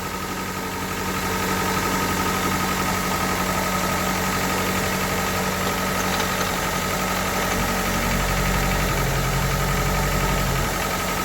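A car engine idles steadily after a rod bearing replacement, a continuous, even mid-pitched running hum with faint vibration, close and unaccompanied, rising slightly in revs near the end.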